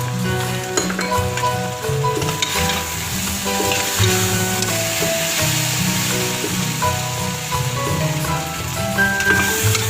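Spiced fajita filling with coriander powder and cumin frying in a pan on a low flame, a loud, continuous sizzle with stirring scrapes, heard under steady background music, no talking.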